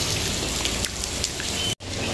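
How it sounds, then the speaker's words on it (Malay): Heavy rain pouring down at Telaga Air near Kuching, a steady dense hiss with scattered drips and splashes close by, cut by a brief dropout near the end, with no one talking. "Hujan lebat."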